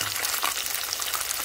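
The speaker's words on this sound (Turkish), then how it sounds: "mutlaka düzgün yağda kızartalım." Close, continuous sizzling and crackling of crispy fried chicken frying in hot oil, steady throughout the short stretch.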